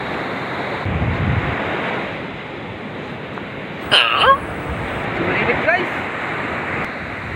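Sea surf rushes and washes in over steady wind noise, with a short excited vocal outburst partway through.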